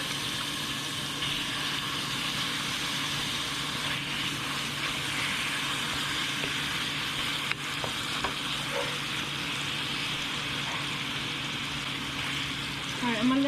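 Ground turkey frying in olive oil in a pan on medium-high heat, a steady close sizzle throughout with a few clinks and stirring sounds, and a voice talking over it.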